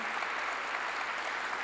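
A church congregation claps during a sermon, a brief, even wash of many hands clapping together, moderately loud and continuous, with no talking over it.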